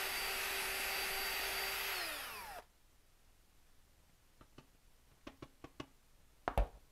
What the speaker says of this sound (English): You blend it for a while because you want to make sure that all the active ingredients are mixed thoroughly.